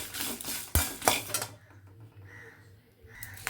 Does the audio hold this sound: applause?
no